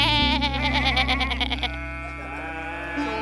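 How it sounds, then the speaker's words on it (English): Sheep at a park bleating nearby, one loud wavering bleat with a quivering tremolo that settles into a steadier tone, heard alone. "A sheep."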